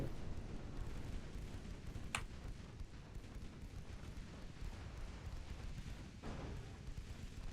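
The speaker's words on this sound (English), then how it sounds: "my secondary guns are peppering enemy" Warship secondary guns fire in Ultimate Admiral: Dreadnoughts, a naval battle with a rumbling bed of distant booms and two sharper reports standing out near the start and late, no voices.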